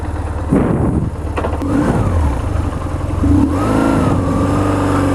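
A BMW R1150GS motorcycle engine pulling away, a close, loud mid-pitched rumble that rises and falls through a couple of revs and a gear change, with some clatter and no talking.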